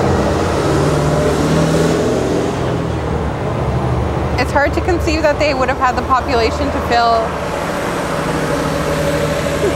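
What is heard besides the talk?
loud street traffic in Rome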